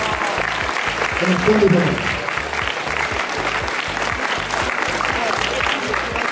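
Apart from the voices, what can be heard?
applause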